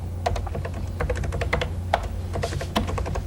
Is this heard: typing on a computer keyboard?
yes